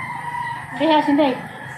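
A chicken gives a short crowing call, close by, over a steady background hum with people talking nearby.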